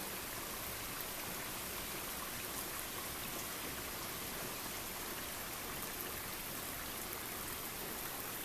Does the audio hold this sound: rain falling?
yes